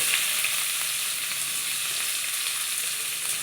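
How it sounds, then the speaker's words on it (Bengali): Halved onions sizzle in hot oil for chicken do pyaza, with a bright, even crackle, close and steady from start to finish, with no voices. "এই পেঁয়াজটাকে একটু ভাজা ভাজা করে নেব"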